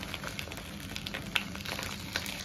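Eggplant and chili peppers frying in a little oil in a pan over low heat give a steady, soft sizzle with a few sharper pops, close by and without talk.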